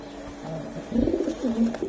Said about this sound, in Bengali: এটা মুন্ডিয়ান কবুতর